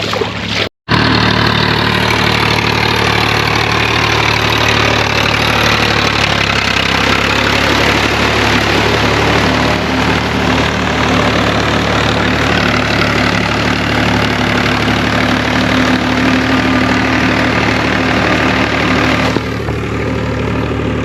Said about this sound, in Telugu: కింది మాడి దున్నుతుంది ఇప్పుడు ట్రాక్టర్.